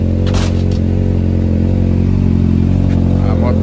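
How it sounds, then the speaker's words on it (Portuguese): A motorcycle engine idles steadily and loudly nearby, a continuous low rumble that fills the whole stretch with slight clattering over it. "A moto tá ligada, mas não vou de moto não."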